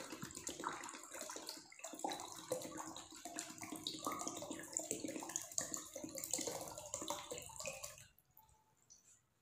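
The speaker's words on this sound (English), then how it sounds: "If I pour 1 liter more water in this bucket, then how much water it has?" Water poured into a bucket, a steady splashing, gurgling stream running for about eight seconds before stopping, close but fairly quiet.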